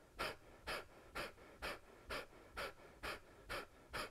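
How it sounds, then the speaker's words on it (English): Kapalabhati breathing in a yoga energy practice: nine sharp, forceful exhales through the nose at a steady rhythm of about two per second, close and clear with no talk. "And this is the forceful exhale through the nose."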